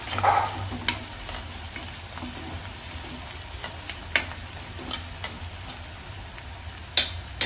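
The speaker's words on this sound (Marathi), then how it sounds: "व्यवस्थित हे मसाले आपण मिक्स करून घेऊया।" Spices such as coriander-cumin powder are stirred in a pan for Maharashtrian shev bhaji, a soft steady sizzle of frying with scraping spoon strokes and occasional sharper clinks against the pan, no talking.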